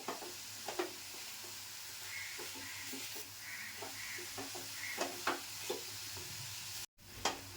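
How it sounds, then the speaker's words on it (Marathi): Jaggery and grated fresh coconut being roasted together in a pan as a sweet filling, soft quiet sizzling with scattered scraping stirs and clicks, a brief dropout near the end. "गूळ आणि खोबरं ना असं एकत्र करून मी मस्त असं भाजून घेते."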